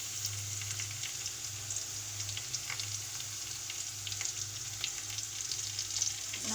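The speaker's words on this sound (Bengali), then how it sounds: "নাড়াচাড়া করে লাল লাল করে ভেজে নিয়েছি" Taro fries in oil while being stirred, a soft continuous sizzle with faint crackles and occasional light scrapes over a low background hum, fairly quiet and with no talking.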